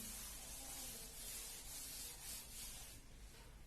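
Steady rubbing of an eraser across a board, wiping away written set-theory work in a classroom maths lesson, a continuous close scratchy swish with slight surges and no voices.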